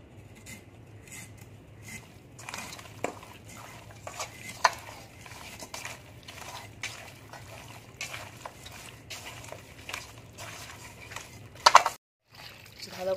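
Raw chicken is hand-mixed in a bowl with salt, turmeric, chili powder and mustard oil, giving soft wet squelches and intermittent clicks over a low background hum, with a brief pause near the end.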